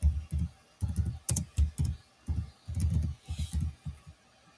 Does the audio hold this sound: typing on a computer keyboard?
yes